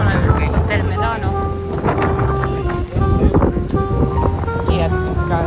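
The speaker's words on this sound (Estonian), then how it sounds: "See tuul on külm ka selline." Cold wind blows across El Medano beach in Tenerife, buffeting the microphone in a loud, constant rush while someone talks throughout.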